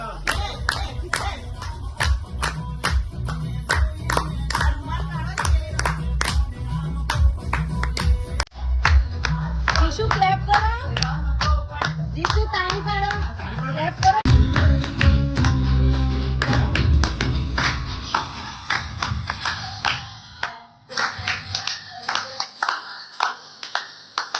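A group of boys clap along to a bhajan, a long run of steady rhythmic claps over singing and a drumbeat that changes pace partway through, with voices mixed in throughout.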